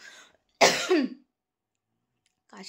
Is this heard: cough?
yes